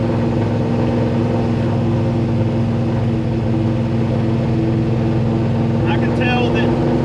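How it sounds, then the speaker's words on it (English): A car with Holley Dominator carburetors runs rich, giving a loud, steady, unbroken engine rumble close by from start to finish. "I can tell that carburetors need some tuning just by listening to it"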